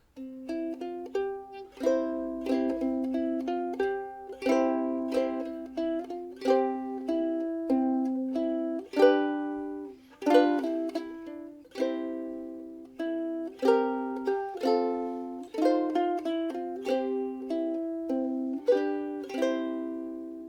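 Fingerstyle ukulele weaving fuller chords together with a melody line, a continuous close run of plucked notes with bright attacks and ringing decay, played alone without any voice.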